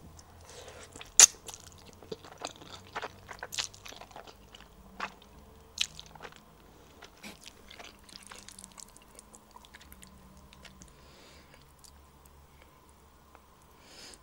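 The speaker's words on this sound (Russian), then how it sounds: "Давайте пробовать лапшу. Она с кусочками лука, имбиря." Noodles with bits of onion and ginger being eaten up close, with repeated soft bites, crunches and wet slurping chews scattered across a quiet background.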